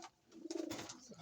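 A pigeon in a loft gives a soft, low rolling coo, close and quiet, with faint background rustle around it.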